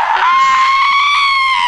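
A high, sustained shriek from a man, loud and close, holding a strained wavering pitch for under two seconds with no talk over it.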